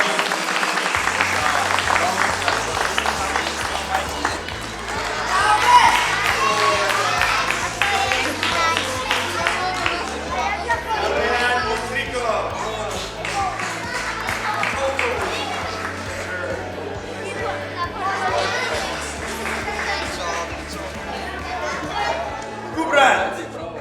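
Applause for children receiving certificates at an ice hockey camp, scattered clapping from a small group mixed with chatter and a speaker's voice over steady background music.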